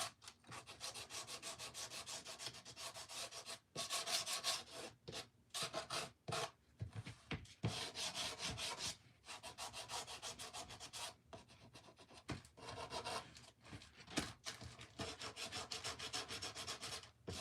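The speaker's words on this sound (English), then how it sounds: "I'm just lightly sanding it" Steady scratchy rubbing of sandpaper lightly over painted wood, continuous strokes with brief pauses, close and fairly loud, no talking.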